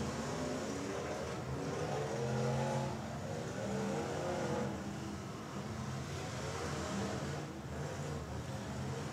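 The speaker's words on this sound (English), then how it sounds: "He does donuts to get into the position he wants, and then he can nail it." A demolition derby car engine revs hard while the car spins donuts, a continuous loud roar with rising and falling pitch and a few surges in the throttle.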